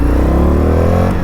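A 2020 Indian FTR 1200 S Race Replica motorcycle engine revs up under a touchy throttle, a loud, close, continuous growl rising steadily in pitch over a brief moment.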